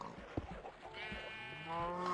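Sheep bleat repeatedly in the blocky sandbox game Minecraft on Xbox 360, several wavering harmonic calls overlapping near and close, with other farm animals kept in pens nearby.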